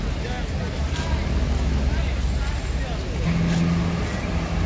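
A Prayogo bus on a Hino chassis idles and rumbles nearby on a busy roadside, with steady engine noise and traffic around it, while people talk over it.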